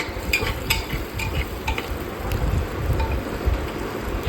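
Chopped onions sizzle and fry in a pan until light golden brown, a steady crackling hiss with soft scraping stir sounds breaking through at intervals, close and continuous with no talking.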